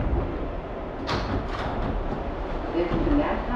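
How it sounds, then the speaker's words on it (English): A Manhattan-bound NYC subway 7 local train with R188 cars running, a steady rumbling roll with a couple of sharp metallic squeals and clanks partway through, heard from inside the car. "This is the Manhattan bound 7th local train."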